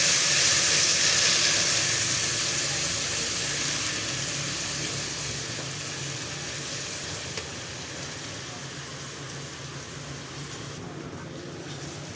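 Garlic and ginger paste sizzles and crackles in hot oil, a close, continuous frying hiss that gradually settles to a softer sizzle.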